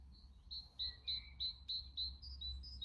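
A bird sings outdoors in a repeated series of high, bright chirps and whistles, moderately close, over a low rumbling background hum.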